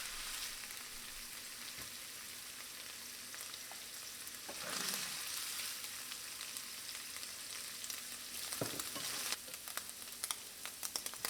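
Ground beef sizzles and crackles steadily in a pan, a continuous close frying hiss with brief stirring scrapes and louder pops toward the end, no voices.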